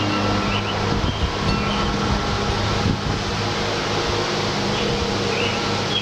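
A steady outdoor breeze blows near a small wind turbine, with a continuous loud rush of air buffeting the microphone throughout.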